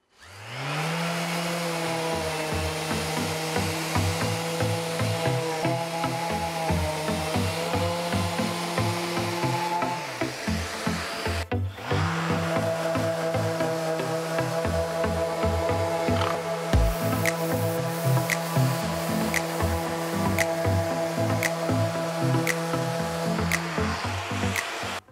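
Festool ETS and Mirka Deros random orbital sanders work a wood surface. Each gives a steady, loud motor whine with a rubbing hiss, and there is a brief pause partway through. No voices are heard.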